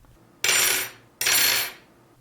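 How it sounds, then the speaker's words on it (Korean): Two loud metallic clatters of heavy Afghan (Tunisian) crochet hooks dropped or knocked together, each a harsh crash like breaking dishes that rings briefly and fades, alone and close. "거의 뭐 그릇 깨지는 소리가 나서 작업 책상에서 쫓겨나듯이 사라진 바늘입니다"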